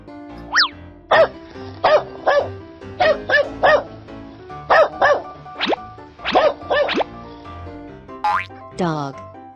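A cartoon dog in a kids' animal cartoon barks in quick, bouncy bursts, a dozen or so loud, close yaps mixed with springy boing-like effects and a rising whine near the end.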